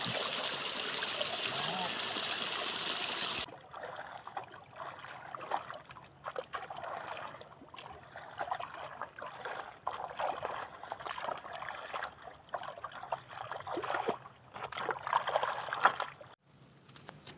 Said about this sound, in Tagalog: nidagayday na ang tubig padung sa atong itikan.